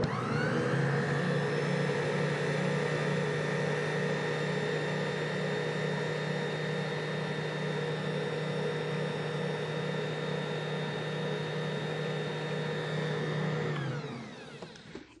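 A small electric mixer beats vegetarian tamale dough in a kitchen with a steady, continuous motor whir that holds at an even pitch for about fourteen seconds, then winds down at the end.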